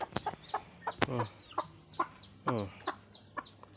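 Chickens cluck and peck outdoors while feeding on thrown butterfly pea flowers, giving a steady run of short, fairly faint clucks with one sharp call among them.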